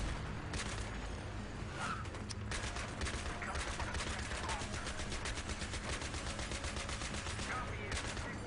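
A .50 caliber machine gun fires in Battlefield 3, with sustained rapid bursts of loud gunfire under a dense wash of battle noise throughout.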